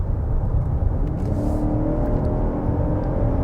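A 2024 Lexus TX 550h+ plug-in hybrid SUV's V6, paired with two electric motors, hums and revs under load, a steady low rumble with a rising whine as it accelerates, heard from inside.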